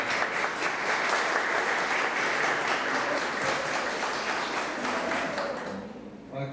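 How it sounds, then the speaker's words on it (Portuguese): Audience applause for a city councillor at a lecture event, a dense, sustained round of clapping that fills the room before tapering off at the end. "Uma salva de palmas para ele,"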